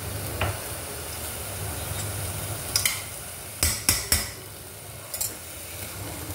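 Spice masala with tomato paste stirred and mixed in a pan, a soft continuous frying sizzle broken by several sharp scraping clinks of a spoon against the pan, close, with no talk.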